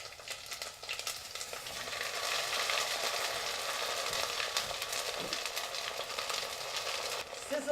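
Squash fries deep frying in hot oil, a steady continuous sizzle and crackle that holds at an even level throughout, with no voices.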